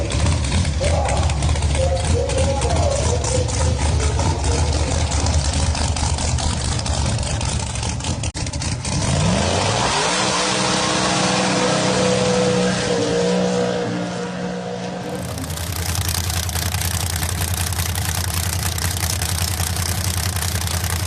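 A Street Outlaws drag car at the track roars loudly up close, then settles into a deep, throbbing idle with a pulsing low rumble before the engine note shifts again.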